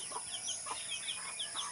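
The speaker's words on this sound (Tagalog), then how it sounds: "yung ating mga alagang manok ay gising na rin" Pet chickens clucking in a rural yard in the morning: soft, repeated short calls in a loose rhythm, faint and somewhat distant, with no talking.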